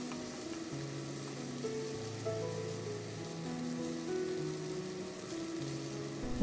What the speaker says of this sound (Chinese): 两面都煎下它